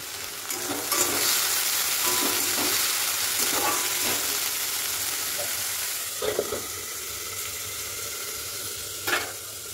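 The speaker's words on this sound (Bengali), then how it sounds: "আর এই যে আমি কড়াইতে দিয়ে দিয়েছি সমস্ত সবজিগুলো" Mixed vegetables cooking in an Indian kadai, a continuous loud hiss of frying with occasional soft stirring scrapes and a couple of brief knocks, close by.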